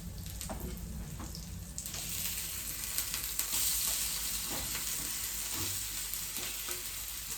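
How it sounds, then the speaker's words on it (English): Sweetcorn and pea fritters sizzle steadily in a pan just after being flipped, a continuous close frying hiss with occasional soft scraping taps, no voices. "So I'm gonna flip them over."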